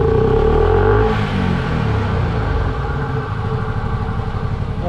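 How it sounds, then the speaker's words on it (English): A turbocharged Honda Pioneer 500 engine runs loud and steady with a whistling turbo tone on top that eases off after about a second, then settles into a continuous mechanical drone. "I can hear the turbo"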